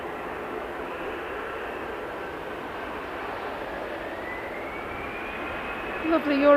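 Eurowings airliner jet engines at Manchester Airport, a steady broad roar held at a distance throughout, with a faint rising whine and a slight swell near the end.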